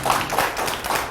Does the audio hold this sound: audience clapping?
yes